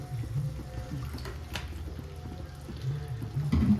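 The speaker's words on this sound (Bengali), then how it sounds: "আমি স্লাইট একটু জল দিয়ে নিচ্ছি, হয়তো এটা নিচ দিয়ে লেগে যাবে।" Water splashes softly into a pan of spice mixture cooking for an egg curry, a brief faint pour and sizzle over a low steady background with no talk.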